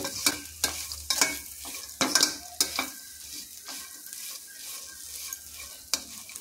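Crispy sweet corn tossed with chaat masala is stirred in a pan, a spatula scraping and clinking in irregular close strokes over a soft, steady sizzle, with no voices.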